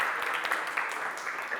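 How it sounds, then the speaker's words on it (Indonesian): Students in a physics classroom clap for a student group, a quiet, steady patter of many hands heard from some distance. "silakan kita kasih tepuk tangan untuk kelompok ini"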